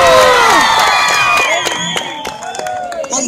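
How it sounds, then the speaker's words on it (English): A crowd at a sports league event in a stadium claps, cheers and whoops, loud and spread out, with high shouts and whistles over a continuous bed of clapping. "Let's give a thunderous and marvelous clapping for their presence."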